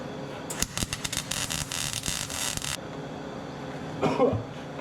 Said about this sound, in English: We're gonna put it right there and weld her up.